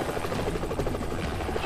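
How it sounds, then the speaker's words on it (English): Helicopter rotors chopping steadily in the video game Renegade Ops, a loud continuous buzzing whir filling the scene with no talk over it. "Oh god, these choppers!"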